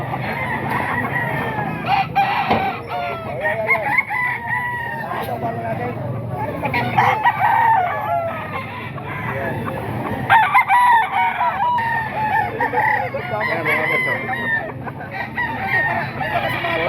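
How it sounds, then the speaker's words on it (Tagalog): Nine-month-old local roosters and hens at a gamefowl farm crow and cluck repeatedly in the background, while someone talks over them throughout. "Ito yung mga manok pa ni Boss Hapon mga boss."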